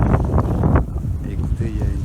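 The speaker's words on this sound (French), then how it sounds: "il y a une petite brise sympa" A breeze blowing across a sailboat on open water, heard as a continuous low wind rumble buffeting the microphone, close and moderately loud, with a voice talking over it during the first part.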